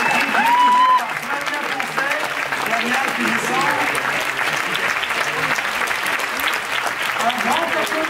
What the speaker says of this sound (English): Un grand applaudissement pour tous ces gens